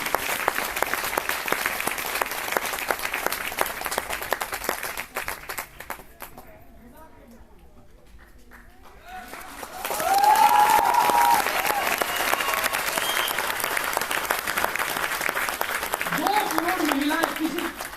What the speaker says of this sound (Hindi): महिला शक्ति के लिए जोरदार तालियां होनी चाहिए, जोरदार तालियां।